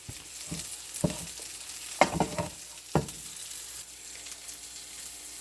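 A spoon stirs yellow rice with melted butter in a pot after the bay leaves are taken out, giving a few soft scraping strokes about once a second over a low, steady background.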